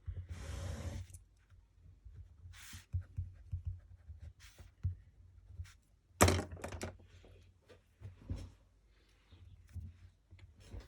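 A pen drawing on paper or a board during a lecture on IV bolus multiple dosing: scattered scratchy strokes and short scribbles with pauses between them, fairly faint and close, no voice over it.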